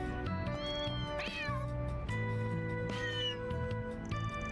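Cats meow in the video game Trails Through Daybreak 2, with two drawn-out, rising-and-falling meows sounding close and clear over steady background game music.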